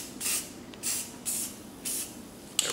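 Short bursts of white spray paint from an aerosol can during spray paint art, four even hissing sprays of roughly a quarter second each with brief pauses between them, close and clear, followed by a small click.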